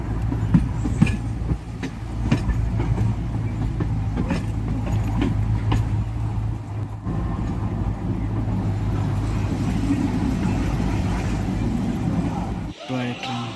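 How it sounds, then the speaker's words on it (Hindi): The Kalka–Shimla narrow-gauge toy train heard from on board, a steady low rumble of wheels and carriage running throughout, with people talking over it. "toy train"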